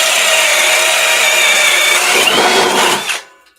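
A cordless drill runs in drill mode at high speed, a loud steady motor whine lasting about three seconds before spinning down and cutting off.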